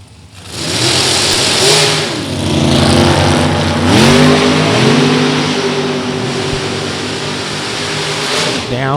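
Dragsters launch side by side down the Beech Bend drag strip at a Saturday LODRS race, Rich Bernier's TS Performance-built car among them. Loud engine roar rises in pitch, dips on a shift, then climbs again and holds a sustained howl.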